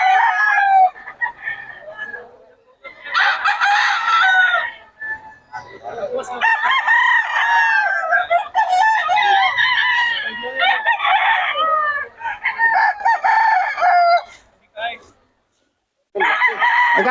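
Several roosters crow repeatedly and close at a Bocaue poultry market, long overlapping calls alongside clucking, with bits of talk between them.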